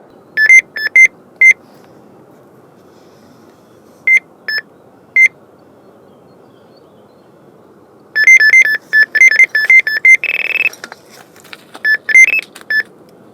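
Carp fishing bite alarm at a wild gravel pit, giving short high electronic beeps in scattered bursts: a few early, a pair mid-clip, then a dense run of rapid beeps near the end, clear against quiet outdoor background.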